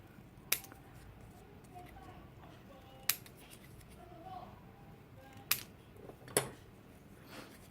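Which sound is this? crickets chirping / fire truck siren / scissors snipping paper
scissors snipping paper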